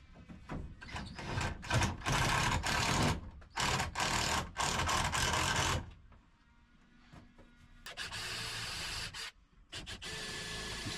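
Screws being driven into a roof rafter while re-roofing a garden storage room: bursts of loud, close, whirring power-driver runs with brief pauses, then a quieter gap and another sustained drive.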